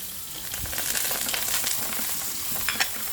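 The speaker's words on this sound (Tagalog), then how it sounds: "igisa lang natin ang ating sibuyas at bawang" Onion and garlic sautéing in a pan, a continuous close sizzle with scraping stirs and a few sharp clicks of the utensil against the pan, with no voices.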